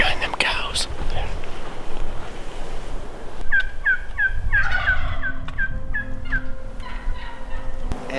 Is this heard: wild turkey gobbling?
yes